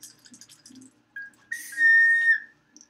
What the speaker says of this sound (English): And we have a whistle that I was talking about earlier.